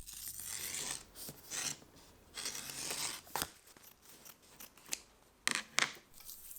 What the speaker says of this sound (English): I peel back the excess and trim it off with a blade